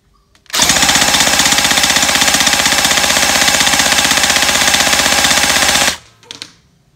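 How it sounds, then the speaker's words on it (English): STD AK47 v2 gel blaster on full auto, loosing one long, continuous burst of rapid, evenly spaced mechanical cracks for about five seconds at close range, then stopping abruptly, followed by a couple of faint handling knocks. "we'll give her a burst on full auto now. So flicking the full auto."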